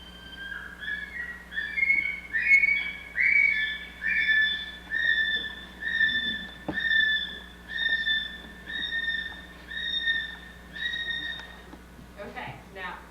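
A male brown kiwi gives a series of about a dozen shrill, rising whistled calls in a steady rhythm, moderately close over a faint low hum.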